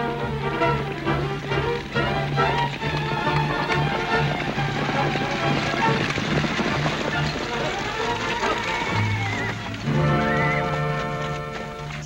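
A team of horses galloping in a 1954 western, a hurried rumble of hooves running continuously under music, fairly close and busy.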